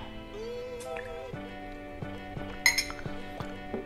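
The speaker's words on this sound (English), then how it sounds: "Pour it in a shot glass." Glass clinks and small chinking taps sound against a soft liquid trickle of Fireball whisky poured into a shot glass, with a sharp bright clink near the end.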